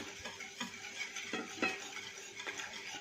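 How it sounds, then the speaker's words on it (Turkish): A baklava dough mixture is whisked lightly in a bowl, with soft, irregular clinking and swishing strokes at a gentle, uneven rhythm, quiet and close, with no voices. "Şöyle hafif çırpalım. Çırpıştıralım hafifçe."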